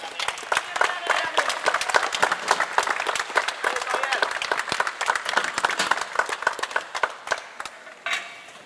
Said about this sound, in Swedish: Jag tycker vi ger Daniel en peppande applåd